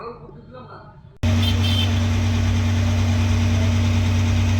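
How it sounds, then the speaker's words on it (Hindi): A Mahindra Supro BS6 diesel pickup engine starts abruptly after a quieter moment and then runs at a steady, loud idle with a deep, continuous rumble. "इंजन का साउंड भी आप सुन पा रहे हैं।"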